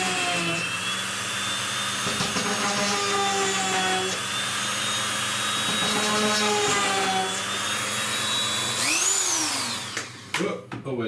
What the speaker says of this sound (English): So what I've done is set up my Dremel